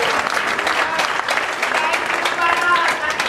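A congregation at a deliverance church service claps for Jesus, a dense burst of hand claps running throughout, with voices mixed in beneath.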